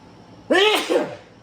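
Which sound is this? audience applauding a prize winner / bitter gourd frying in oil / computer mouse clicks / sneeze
sneeze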